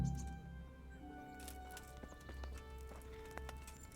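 Horse hooves clip-clopping in the medieval video game Kingdom Come, a steady moderate rhythm of hoof falls over a low background hum with game music tones.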